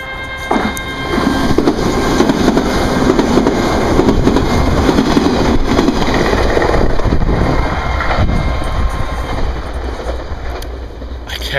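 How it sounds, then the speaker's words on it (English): A train roars past at full speed in Miyazaki, Japan, a loud sustained rumble and rush of noise lasting several seconds before easing slightly. "Look the fuck out for trains going full speed right on past you"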